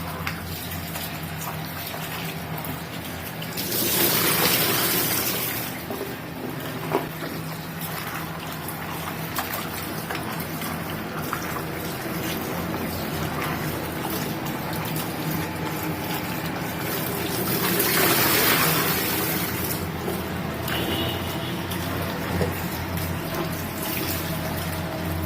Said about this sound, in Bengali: এখন ঢেঁড়সগুলোকে আমি ধুয়ে নিচ্ছি। ঢেঁড়সগুলো কাটার আগেই ধুতে হয়।